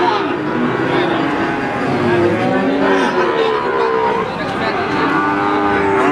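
Feeder cattle at the Wagenan cattle market in Margorejo, Pati, East Java: cattle low and moo repeatedly among a busy crowd, with people talking close by throughout.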